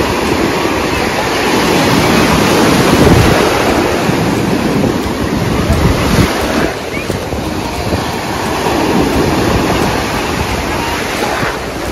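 Ocean waves at Chivla Beach crash and wash in a loud, continuous surge, with heavy wind buffeting the microphone throughout.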